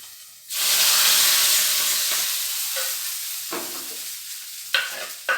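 Browned chopped onions fried in oil are poured into a prawn curry, setting off a loud, steady sizzle and hiss that bursts in suddenly and slowly fades, with a few sharp spits and clinks near the end.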